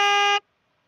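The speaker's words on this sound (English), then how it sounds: "we're going to go ahead and honk the horn of our news vehicle" A news vehicle's horn gives one loud, steady blast of about 0.4 seconds, then cuts off abruptly into silence.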